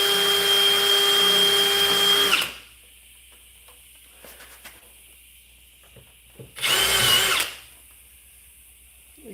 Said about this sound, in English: These are not hard to drill out.